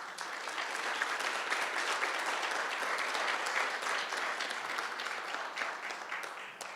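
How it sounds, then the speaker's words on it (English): An audience at a guide dog graduation claps steadily for the puppy raisers, a dense, even wash of applause that holds for several seconds before easing slightly. "So I want to give a big round of applause to those puppy raisers"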